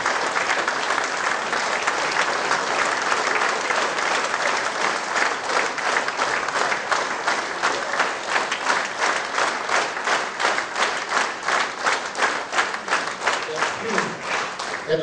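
An audience at a St. Stephen's Day celebration in Párkány applauds loudly and at length, the clapping steady at first and then settling into rhythmic, unison claps toward the end.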